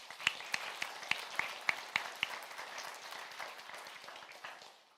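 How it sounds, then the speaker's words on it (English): An audience at a school board meeting gives a final round of applause for national champion students; several sharp individual claps stand out early before the clapping thins and fades away. "please welcome me one final round of applause for our National World Master Champions"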